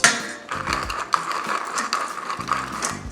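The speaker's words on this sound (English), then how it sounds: "Four grinds of fresh cracked black pepper." Fresh black pepper cracked in a pepper mill for a soy sauce and bourbon salmon marinade: a close, dry ratcheting crunch repeated in several short grinding bursts.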